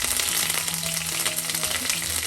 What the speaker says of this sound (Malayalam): കടുക് പൊട്ടിയ ശേഷം ഒരു തണ്ട് കറിവേപ്പില ഇടണം.